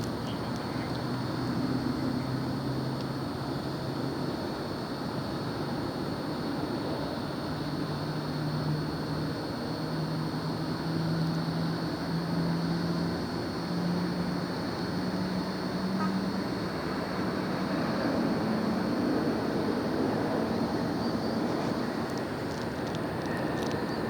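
United Airlines flight 2191 from Newark arriving at LAX, heard as a steady broad jet roar with a faint low engine drone rising and falling across the span, continuous and moderately distant.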